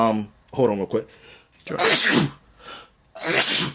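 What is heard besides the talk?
sneeze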